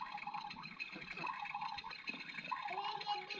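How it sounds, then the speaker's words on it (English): Water poured into a child's toy coffee maker, a faint trickling fill with small splashes and drips at close range. "I put some more water in it."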